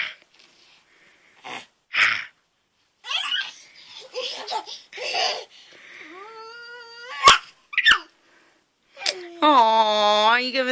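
Siberian husky dog whimpering and whining in high drawn-out tones among a baby's squeals and laughter, with an adult talking over parts of the scene.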